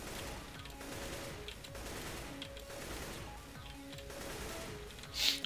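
An AK-47 in a video game fires repeated short three-round bursts, crisp rapid clusters of shots separated by brief pauses, fairly quiet overall.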